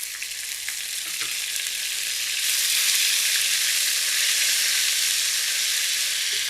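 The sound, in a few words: ginger-garlic paste and whole spices sizzling in oil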